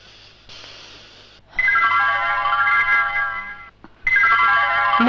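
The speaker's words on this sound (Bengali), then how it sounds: "ম্যাম, আপনার ফোন।" A mobile phone ringtone plays loudly in a quiet indoor room as a melodic electronic tune, starting after a short pause, cutting off briefly, then resuming for a second burst.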